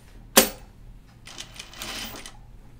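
A home sewing machine stitches a curved sleeve seam on a caftan: one sharp click, then a short, rapid mechanical rattle of the needle running for about a second, close and fairly quiet.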